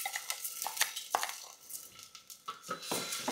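A spoon stirs washed rice and green moong dal in ghee in a metal pot, with scattered scraping clinks and light taps against the pan, close and without talk.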